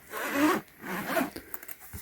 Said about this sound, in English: Come with this double zipper system